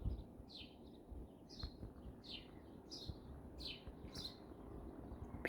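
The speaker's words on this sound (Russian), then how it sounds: "Птички как поют, слышно вам, не слышно? Чирикают, чебечут с утра." Birds chirp and sing in the morning, a series of short, regularly spaced tweets, faint and somewhat distant over quiet outdoor background noise.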